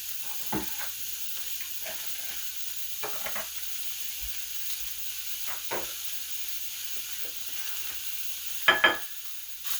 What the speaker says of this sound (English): Now I'm going to cook up a pound of pork sausage.